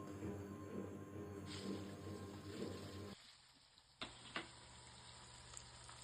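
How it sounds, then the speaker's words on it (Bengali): Paneer fries in a pan with a soft, steady sizzle that drops off midway, followed by a couple of faint clicks and clatters. "তো এখানে ভালো করে পনিরটাকে প্রথমে ভেজে নিলাম"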